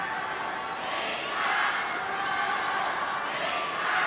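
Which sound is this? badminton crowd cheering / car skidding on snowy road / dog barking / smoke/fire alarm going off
badminton crowd cheering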